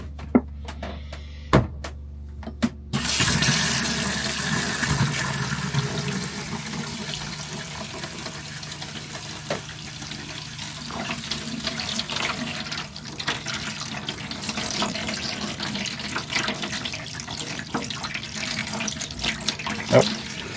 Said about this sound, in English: Let's go check if the shower itself is heating up